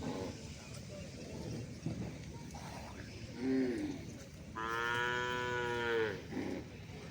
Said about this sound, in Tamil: நாட்டு மாட்டு சந்தைக்கு வந்த நாட்டு மாடுகள்